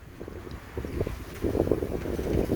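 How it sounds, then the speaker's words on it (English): Wind gusting over a sailboat under way with staysail and main up in about ten knots, a low buffeting rush that builds in strength toward the end. "Oh, we got a nice wind."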